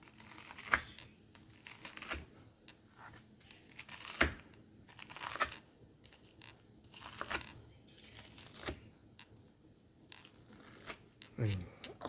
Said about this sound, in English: we're gonna cut the katsu into pieces. You can literally hear it.